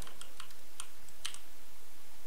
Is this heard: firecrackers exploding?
no